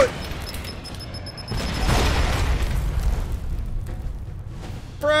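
A frag grenade explosion in the video game Alpha Protocol, a deep rumbling boom that swells up mid-clip and rolls on with low crackling debris, set among faint game ambience.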